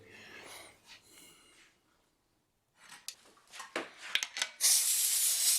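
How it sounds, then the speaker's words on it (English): A new spray gun lays finish coats on a leopard wood mandolin, giving short hissing bursts of spray separated by pauses, the last burst loud and sustained. "I actually bought a brand new spray gun here about 3 or 4 weeks ago, and I'm still trying to get used to it."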